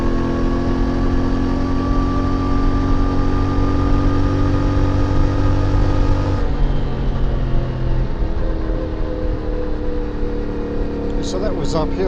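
A CF Moto 450MT motorcycle climbs an Alpine mountain road, its exhaust droning steadily under load in a high gear, loud and close with a constant engine note that shifts slightly partway through, accompanied by wind rush.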